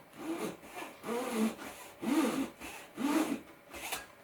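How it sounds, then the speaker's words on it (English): A hand saw cuts down through balsa wood ribs into plywood in five rhythmic back-and-forth strokes, each a raspy scrape with short pauses between them, close and moderately loud. "So I just cut down, and you'll hear the change of sound as I hit the plywood."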